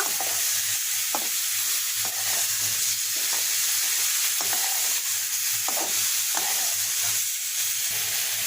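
Banana stem cooked down with spices in a pan, a steady sizzle with regular spatula stirs and scrapes, close and continuous, no voices.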